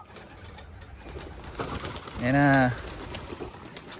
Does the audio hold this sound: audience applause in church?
no